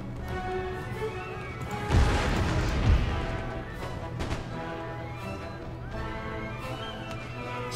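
Musket volleys in the video game Empire Total War, with two sharp, loud cracks close together near the middle over a continuous battlefield din and a droning music bed.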